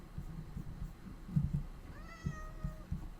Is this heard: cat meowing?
yes